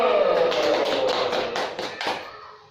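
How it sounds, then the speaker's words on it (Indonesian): A small audience at a child-protection training session claps briefly, a burst of scattered hand claps that thins out and fades over a couple of seconds, with a faint voice at the start. "Ya, tepuk tangan dulu."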